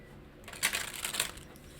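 A deck of tarot cards is shuffled in a short riffling burst lasting about a second, close and fairly quiet, with no talking.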